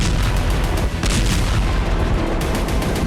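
A heavy, sustained roar of rumbling booms and crackling blasts fills the air, loud and dense throughout, as an IDF fighter jet's sonic boom shakes Lebanon amid wartime bombardment.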